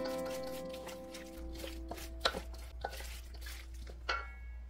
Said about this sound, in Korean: 여기에 썰어둔 양파, 쪽파 넣어서 섞어주세요.